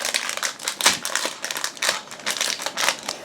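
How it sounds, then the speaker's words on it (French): Packaging of a Djeco marbling paint kit being unboxed, with close crinkling, tearing and crunching of paper and plastic in irregular bursts. "C'est parti pour le déballage de la peinture."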